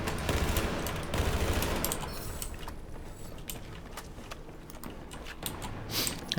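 Rapid gunfire from a shooter game on a Nintendo Switch, bursts of sharp shots repeating through the stretch with a loud opening volley and thinner scattered shots later, no talking over it.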